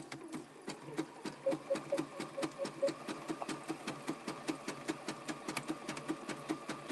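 A sewing machine stitches appliqué in a steady fast rhythmic whirr of needle strokes, close and continuous with light mechanical clicking.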